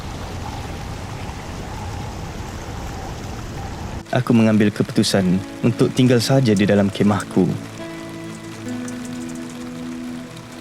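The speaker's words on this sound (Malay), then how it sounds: "hujan turun dengan begitu lebat dan tidak berhenti selama beberapa hari" Heavy autumn rain pours down in Scotland as a dense, steady hiss for about four seconds, then breaks off as a person starts speaking over a quieter background.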